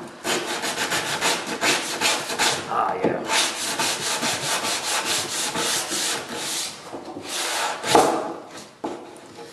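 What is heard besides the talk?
sanding wood with a sanding block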